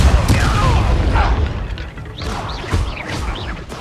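Repulsor spell cast during Hogwarts Legacy combat, a loud booming magical blast with crashing impacts amid busy game effects and shouting voices.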